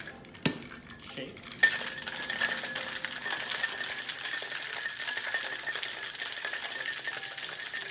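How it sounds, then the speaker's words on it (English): A cocktail shaker filled with ice and a Singapore Sling mix is shaken, a couple of sharp clacks at the start followed by a steady, close, continuous rattle of ice against metal. "Shake."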